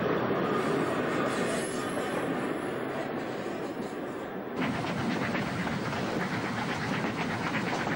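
An ÖBB class 1110 Krokodil electric locomotive crosses a bridge, a steady loud rumble and rattle of wheels with some squealing that shifts and brightens halfway through, with no voices.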